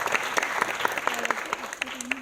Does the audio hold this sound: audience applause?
yes